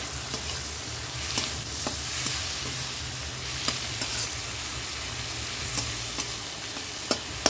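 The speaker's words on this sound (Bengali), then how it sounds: "চিংড়িটা ভেজে নিই হালকা।" Prawns fry lightly in a pan with turmeric and salt, giving a steady close sizzle with occasional sharp spatula scrapes and taps scattered throughout; no voices.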